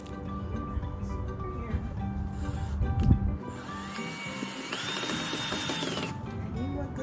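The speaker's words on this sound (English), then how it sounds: "Attach the screws on the side." A power drill drives screws into a DIY cover for an AC unit, the motor whirring in short bursts with a rising pitch near the end, close by amid some handling clatter.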